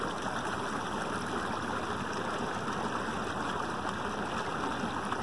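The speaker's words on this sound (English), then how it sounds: "hear the sounds of the water flowing. And a lot of birdies." Water flows steadily along the Portage Canal in an even, continuous rushing wash, close and moderately loud, with no voices over it.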